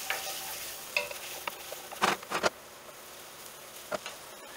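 Onions with a couple pinches of salt being stirred in a frying pan for chana masala, with a soft low sizzle underneath and a few brief scraping stirs that cluster near the middle and once more near the end, close and fairly quiet.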